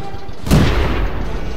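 A single loud tank cannon shot in World of Tanks, a sharp blast followed by a rumbling decay, close and isolated.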